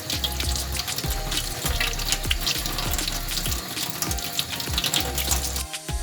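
Lukewarm water runs steadily from a tap while a gold ring is rinsed beneath it, a loud, continuous splashing rush with small irregular gurgles and knocks throughout.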